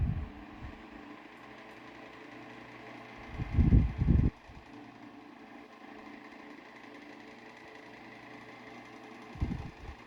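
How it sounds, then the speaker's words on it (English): A GE Standard 10-inch oscillating strap desk fan running with its oscillator engaged, giving a steady low motor hum with a few louder rattling, knocking bursts from the mechanism. "now we will start the fan up with the oscillator engaged"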